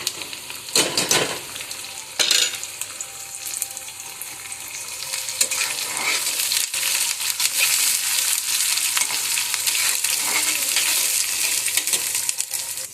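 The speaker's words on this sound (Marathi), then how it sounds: "त्याला छान असं परतून घ्यायचं।" Onion and peas sauté in a pan for fried rice, giving a continuous sizzle and fry with occasional scraping stirs and clinks of a utensil, and no voices.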